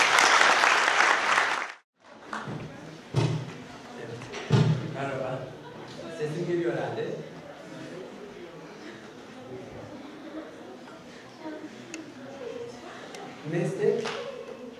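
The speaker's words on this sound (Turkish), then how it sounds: "Alkışlarınızla Hüseyin Küçük." Audience applause welcomes a speaker onto the stage at a university talk on profession and art, a dense burst of clapping that fills the room, breaks off briefly, then continues with scattered claps and thumps.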